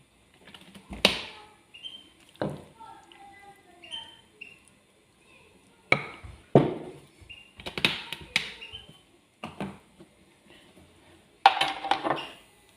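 Homemade salad being tossed and mixed in a bowl after a drizzle of new-season olive oil, heard as scattered clinks and scrapes of utensils against the dish, close by, with pauses between the bursts.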